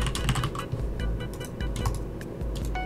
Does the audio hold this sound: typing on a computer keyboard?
yes